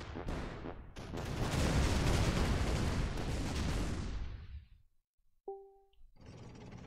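In the tank artillery game Shellshock Live, a loud booming shot rolls straight into a long, rumbling explosion that decays over about four seconds, followed by silence, a short electronic blip and then faint background noise.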